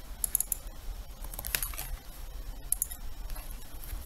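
Close computer keyboard clicks as an ID is pasted in, a few quick key presses and taps over a low background hum.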